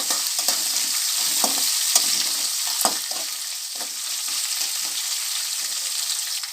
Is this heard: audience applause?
no